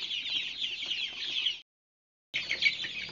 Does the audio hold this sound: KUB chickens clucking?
yes